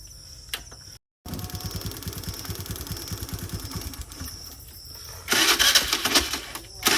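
A small motor scooter engine, stuck in mud, runs with a steady low rumble and rapid putter, briefly cutting out, then rising louder with harsh high-pitched noise near the end.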